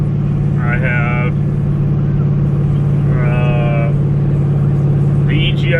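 The engine of a 2000 Trans Am, fitted with a bigger throttle body, SLP intake manifold, SLP muffler and new cam, runs on a dyno as a steady, loud, low droning hum with a voice talking over it.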